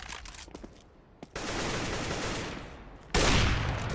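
Gunfire in the video game CS:GO: scattered shots at first, then a sustained burst of rapid automatic fire and a second, louder burst near the end, close and dominant with no talk.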